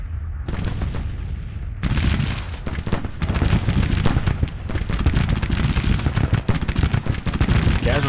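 Dense, continuous artillery and gunfire from a Civil War battle in the strategy video game Grand Tactician: The Civil War, with loud overlapping booms and crackling shots rolling on without pause.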